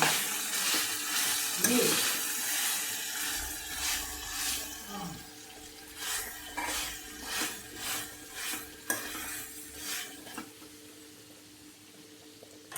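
Chicken fry with masala powder cooks on a low flame with a quiet, steady sizzle. A run of rhythmic scraping stirring strokes follows, each one distinct and close.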